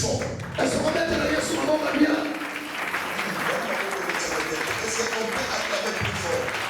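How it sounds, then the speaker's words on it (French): An audience applauds at a church gathering marking an anniversary, a steady, dense wash of clapping that holds throughout, with voices mixed in underneath. "Est-ce qu'on peut acclamer plus fort?"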